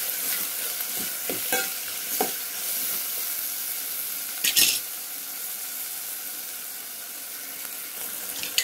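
Tomatoes, onion, green chillies and carrots frying for vegetable rice, with a steady sizzle under repeated scraping stirs of a spoon against the pan, loud and close, no talking.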